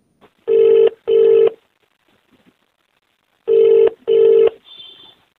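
Telephone ring tone on a recorded phone call, heard as two paired bursts of ringing separated by a pause of about two seconds, loud and clear with no talk over it.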